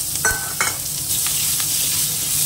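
Onion and green chillies drop into hot oil already holding dried red chilli and cumin, giving a loud, close, continuous sizzle broken by a few sharp spatula clinks and stirring scrapes.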